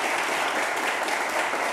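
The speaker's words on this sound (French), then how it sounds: "Merci d'applaudir Gilles Christ pour le raccompagner" Studio audience on a French TV game show applauding a departing contestant, a dense, steady wash of many hands clapping at close range, sustained and fairly loud throughout with no voices on top.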